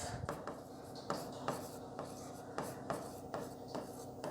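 Teacher writing figures on a board during a data interpretation maths lesson, quiet repeated scratchy strokes in irregular bursts, close and faint, with no speech.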